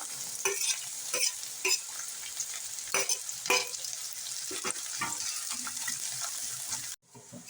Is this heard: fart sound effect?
no